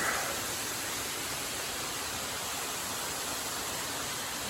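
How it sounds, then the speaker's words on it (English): Creek water flows beside a hiking trail as a dense, steady rushing roar, loud and close and unbroken from start to finish. "I'll probably record the creek a little bit coming in"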